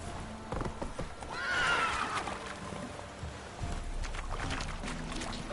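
Roach, Geralt's horse in The Witcher 3, whinnies loudly near the middle with faint hoof clip-clop around it, set against steady ambient game noise.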